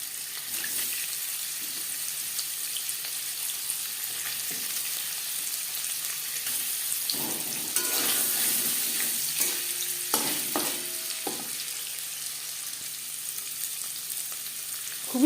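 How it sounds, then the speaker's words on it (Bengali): Cut paneer pieces sizzle steadily in hot refined oil in a pan, with occasional stirring clinks and a louder burst of crackling partway through. "তেল গরম হয়ে গেছে, এবার দিয়ে দেবো টুকরো করে কেটে রাখা পনির।"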